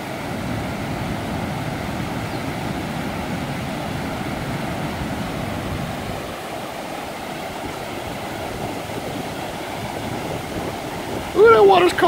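A continuous roar of floodwater after heavy rain pours steadily over the Ski Island Spillway in Oklahoma City, close and loud, with a brief shout near the end.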